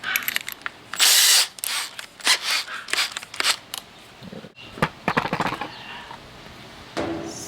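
A power drill bores a hole in bursts for a garage cabinet build with casters, loud whirring spurts broken by clicks, ratcheting and short pauses, close to the listener.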